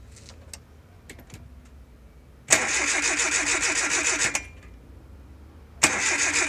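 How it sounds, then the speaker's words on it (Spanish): A car engine cranks and catches with a loud, sustained roar after a stretch of quiet, cuts off, then restarts near the end during a fuel filter change with the fuel pump disabled. "Un momento, por favor, vamos a darle arranque."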